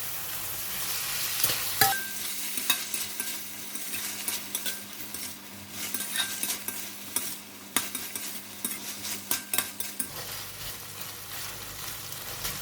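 French beans with eggs, salt, oyster sauce and tomato sauce sizzle in a pan while a utensil stirs and scrapes, steady frying under repeated close clinks and scrapes of metal against the pan, with no talking.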